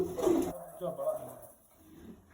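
Pigeons cooing from a rooftop loft, a soft low coo at the start followed by fainter murmuring calls, close by and moderately quiet with some background noise.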